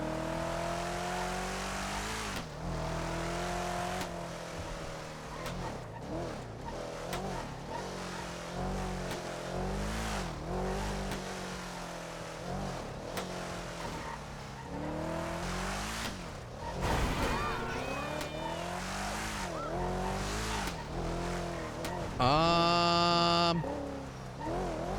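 A car in the GTA video game driving with a steady engine drone that rises and falls, followed near the end by a brief high tonal burst as it pulls over.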